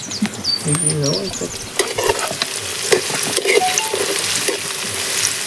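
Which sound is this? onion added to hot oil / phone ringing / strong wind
onion added to hot oil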